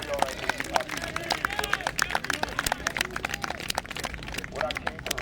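A street crowd at the Seattle CHOP protest zone claps in quick, scattered bursts at close range. Talk and crowd murmur continue underneath the applause.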